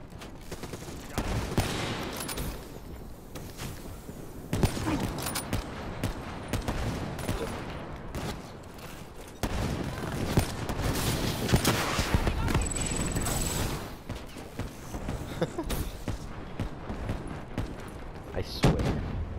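Rapid gunfire from a quick-scoping match in Call of Duty Black Ops III, dense bursts of shots running almost continuously under game sounds and a talking voice.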